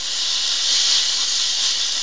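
A steam cleaner hisses steadily over porcelain dental crowns at a dental lab before glazing, a loud, continuous, bright jet of steam lasting throughout with no talk.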